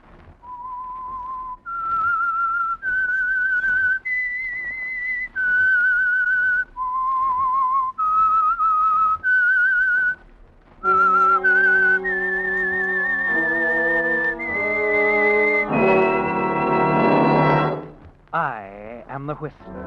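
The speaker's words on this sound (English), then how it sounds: "That whistle is your signal for the Signal Oil program" A lone whistler performs the eerie theme tune of The Whistler radio drama, a sequence of clear sustained pitched notes rising and falling, close and prominent, with an orchestral swell joining near the end.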